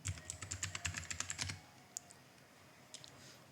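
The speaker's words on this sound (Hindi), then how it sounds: "उसके लिए कमांड लगाएंगे sudo net discover एंड अपना पासवर्ड डाल के एंटर करेंगे" A command and password typed on a computer keyboard: a close, rapid burst of key clicks for about a second and a half, then quiet with a couple of isolated light taps.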